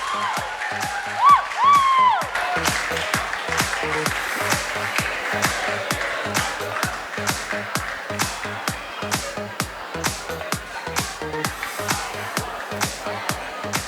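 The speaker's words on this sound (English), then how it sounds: "Can I request you to please give a round of applause to Mr. David Mano sir for 5 years of service" An audience at a school event applauds a staff member's years of service, with steady, even clapping throughout and a brief whistle-like tone early on.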